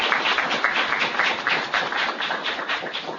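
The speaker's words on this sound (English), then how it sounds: "Give all these great folks a round of applause" A round of applause from an audience at a political gathering with members of the House of Representatives, steady dense clapping throughout, loud and fairly close.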